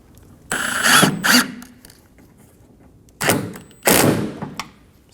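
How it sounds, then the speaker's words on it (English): A ratchet snugging down a door lock bolt on a 2008-2015 Scion xB clicks in four quick bursts, two close together early and two more after a pause, with a sharp mechanical rattle. "Snug down the bolt for the lock."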